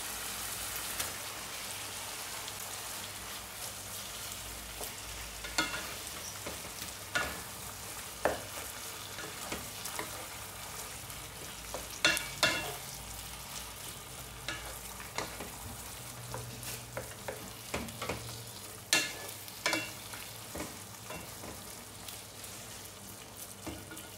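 Beef mince fries in a pan with a continuous crackling sizzle like light rain, punctuated every few seconds by sharp spatula knocks and stirs.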